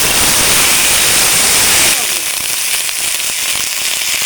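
Okra and eggplant dropped into hot mustard oil in a wok burst into a loud, close sizzle that settles after a couple of seconds into steadier crackling frying.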